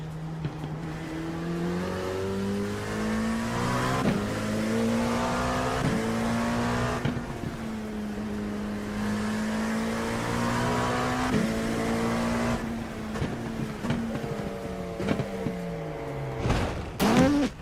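LMP2 prototype race car engine in the iRacing sim, loud and continuous, climbing and dropping through gear changes with repeated revving and downshifts, then braking to a brief lull near the end.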